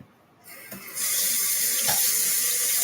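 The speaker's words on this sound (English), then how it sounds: "So I rinsed it with some hot water." Hot water starts running from a kitchen tap to rinse pasta, a faint clink first, then a steady, loud, hissing stream that swells after a second and keeps flowing close by without talk.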